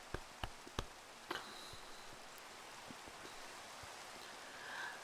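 Rain falling in the Minecraft video game, a faint, steady hiss of rainfall with a few soft clicks early on and no voices.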